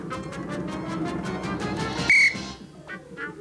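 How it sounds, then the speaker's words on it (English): A short, piercing whistle tone cuts in near the end of a TV game show round, briefly sounding over a busy background of music and noise. "I'm about to blow the whistle."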